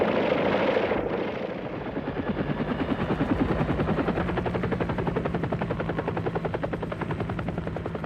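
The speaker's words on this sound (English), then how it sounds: "120 American choppers lift off to deliver 800 additional ARVN ground troops within striking distance of their ultimate target, Chapone" Helicopters lift off carrying troops in the Vietnam War, a loud, close rotor whine swelling into a rapid, steady chopping beat that persists throughout with no voices.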